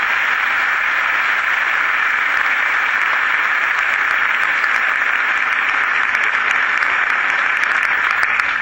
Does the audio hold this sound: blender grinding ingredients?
no